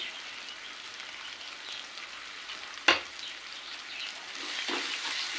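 Ingredients frying in a pan with rock salt mixed in, a soft steady sizzle with one sharp clatter of a spoon and a brief swell of stirring near the end, quiet and close.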